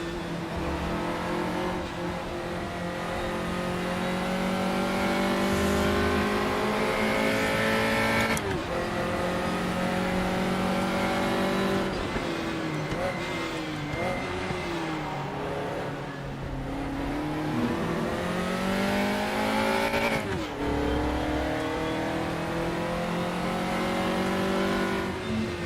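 A race car engine in the RaceRoom racing game revs hard through repeated gear changes, its pitch sweeping up and dropping, loud and continuous with no talk over it.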